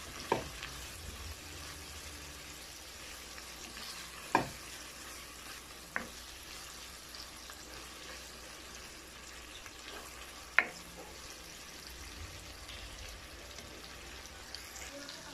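Ground pork sautés quietly in a pan for chopped chayote dish, a soft continuous sizzle with a few sharp utensil clinks against the pan scattered throughout.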